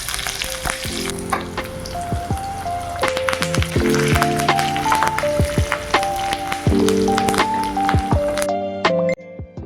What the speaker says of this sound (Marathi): मोहरी, जिरं, हिरवी मिरची, कढीपत्ता याची कडकडीत फोडणी द्यायची. हा सिझलिंगचा आवाज ऐकताय ना?